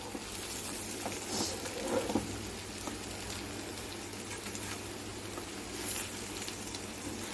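Cabbage and egg fry sizzling steadily in a pan, a constant close crackle and hiss with no break through the whole stretch.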